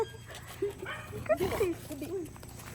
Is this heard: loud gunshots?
no